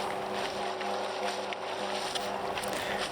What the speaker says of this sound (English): sails down, engine on, through the buoyage system